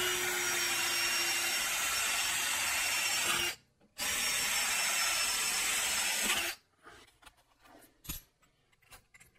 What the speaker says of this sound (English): Then I'll open up the holes in this part with a clearance size for a number 10 screw.